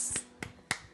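Three sharp, crisp hand claps spaced evenly over about a second, close and fairly quiet, heard alone in a home kitchen.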